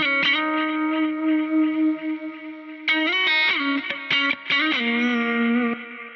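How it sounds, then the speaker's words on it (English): A lead electric guitar solo with delay, reverb and chorus plays sustained, bending melodic notes followed by quicker picked phrases, loud and upfront with no voices. "So this is the lead guitar here."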